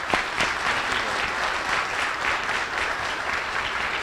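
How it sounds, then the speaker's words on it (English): A crowd applauds steadily for Senator Mark Pacheco at a gathering, dense even clapping filling the room without a break and no one speaking over it. "Let's give him a round of applause"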